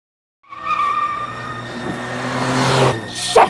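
Tires skid and squeal under engine noise as a white van speeds away in a car chase from the 2015 film Shark Lake. The sound is loud and sustained and builds to a sharp burst at the end.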